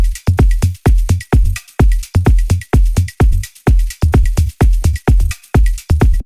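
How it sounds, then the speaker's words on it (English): A modular-style percussion top loop for minimal deep tech house plays alone, with crisp, evenly spaced hits, each with a sharp attack and short decay, repeating in a steady groove. "Then we have another top loop for this one here, which sounds like this."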